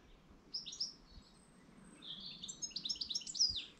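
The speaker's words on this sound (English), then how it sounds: "Got the goldfinches chattering." Goldfinches chatter in a sunny Welsh countryside setting, with bright twittering bursts near 0.6 seconds and then a denser, livelier run of chirps from about two seconds to the end, clear over a quiet background.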